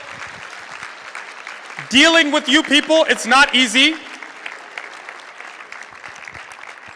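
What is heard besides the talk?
audience applause for the MC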